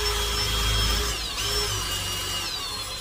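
A cobalt drill bit bores pilot holes in stainless steel sheeting on a food truck build, giving a loud, continuous high-pitched whine and grinding that dips briefly, then resumes, with no voices.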